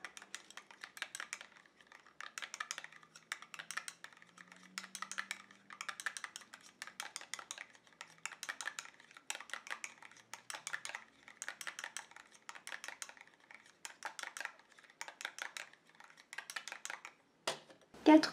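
BB cream being mixed with sunscreen: a soft, rhythmic clicking and scraping repeats steadily, quiet and close, followed by a sharper clack right at the end.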